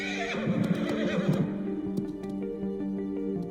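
A horse neighs loudly and close by, a long rising and falling whinny, followed by fainter hoof clatter and background ambience.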